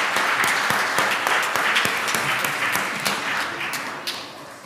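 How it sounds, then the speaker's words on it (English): Sustained applause from a congregation at a church confirmation service, with dense, overlapping claps that stay loud and steady throughout, easing slightly toward the end. "Give him a big round of applause."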